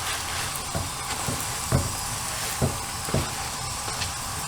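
Cheese paratha crisping in a hot pan, giving a steady close sizzle and hiss with a few soft pops and scrapes, no talking.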